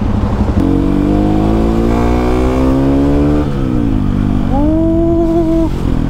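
Motorcycle and car engines crawl through a traffic jam, with one engine revving up in a rising whine, dropping back, then revving again. The sound is loud and close over a steady traffic rumble.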